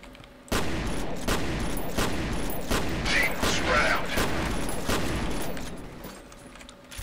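Repeated shotgun blasts from the F.E.A.R. Extraction Point video game, about half a dozen heavy booming shots at a steady pace over a continuous loud backdrop of game noise, with a faint voice underneath.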